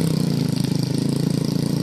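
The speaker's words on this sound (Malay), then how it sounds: "mereka pulang dari kebun menggunakan sepeda motor khas mereka." A local motorcycle engine runs steadily up close as villagers in rural East Aceh ride home from their gardens, a loud, even, throbbing putter with no talk.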